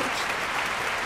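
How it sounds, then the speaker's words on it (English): A group claps together in steady, sustained applause, a thick wash of hands that stays level from start to finish. "you guys just deserve a round of applause"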